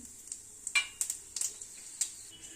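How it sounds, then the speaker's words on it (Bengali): Panch phoron spices crackle in hot leftover oil from frying potatoes, with sharp, scattered pops and sizzles close by and a few clinks of a utensil stirring the pan. "সেই তেলটা এতেই আমি দিয়ে দিলাম একটু পাঁচফোড়ন"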